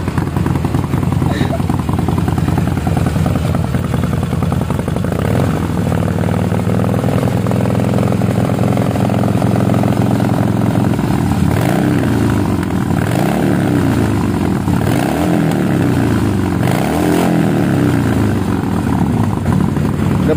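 Harley-Davidson 1200cc motorcycle fitted with a custom muffler, a loud continuous engine drone that swells into repeated throttle revs in the second half, close to the mic.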